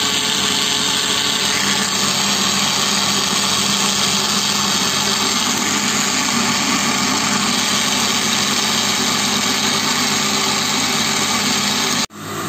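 An electric mixer whips egg whites into a stiff foam for a Kyiv cake, a steady loud motor whine running without a break for about twelve seconds, then cutting off abruptly.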